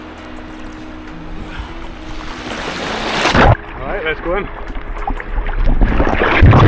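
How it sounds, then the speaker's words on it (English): Small waves slosh and splash around a stand-up paddle board on open water, a steady watery wash with wind, while a person speaks briefly over it. "hearing the waves crash."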